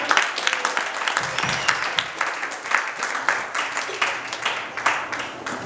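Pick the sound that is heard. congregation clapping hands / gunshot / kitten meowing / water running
congregation clapping hands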